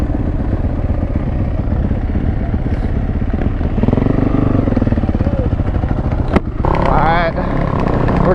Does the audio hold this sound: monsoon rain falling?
no